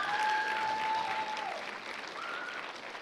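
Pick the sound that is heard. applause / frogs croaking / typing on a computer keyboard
applause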